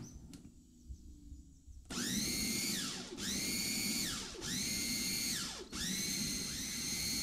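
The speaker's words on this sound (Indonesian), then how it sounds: "Kita proses kembali sampai bawang-bawang ikut halus dan tercampur rata." A food processor whirs through an onion, fish and egg white mixture, starting after a quiet pause and then running in loud, pulsing surges with rising and falling pitch, roughly four long pulses close by.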